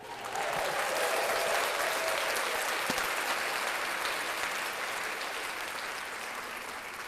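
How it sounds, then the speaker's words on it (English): Steady, dense applause from a group fills the whole stretch at moderate loudness during a podcast recording, with no voices clearly breaking through. "Let's clap that up."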